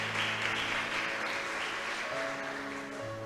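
Church congregation applauds the Lord during a sermon, a steady, moderately distant wash of clapping held throughout with a faint sustained tone underneath.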